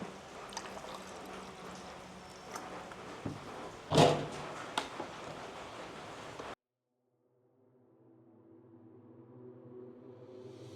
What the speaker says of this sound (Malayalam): ഇതിനകത്തിലേക്ക് നമുക്ക് കുറച്ച് വെള്ളം കൂടെ ഒഴിക്കണം